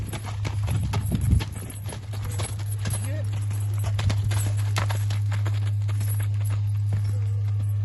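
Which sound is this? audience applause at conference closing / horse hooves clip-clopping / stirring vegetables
horse hooves clip-clopping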